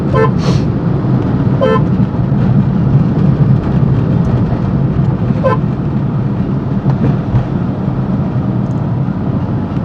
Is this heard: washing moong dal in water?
no